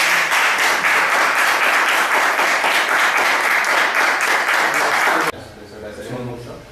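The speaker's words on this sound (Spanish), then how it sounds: "Dale, pues un aplauso." A workshop audience at a philosophy café session breaks into loud, dense applause that lasts about five seconds, then cuts off abruptly to a quieter room with faint voices.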